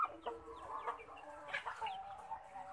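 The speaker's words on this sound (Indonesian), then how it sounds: "Ini saya lagi ngasih makan entok-entok sama ayam saya." Chickens and muscovy ducks being fed, clucking and squawking close by, short bursts of fowl chatter over a quiet background.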